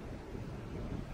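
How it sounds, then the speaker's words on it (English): Wind blows during an outdoor metal detecting outing, a low steady rumble of buffeting across the mic with no speech. "It's kind of windy today."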